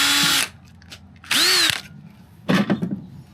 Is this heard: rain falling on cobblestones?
no